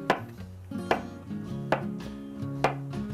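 A knife chops zucchini into thick slices on a cutting board, four or five crisp knocks spaced roughly a second apart against a faint background of humming.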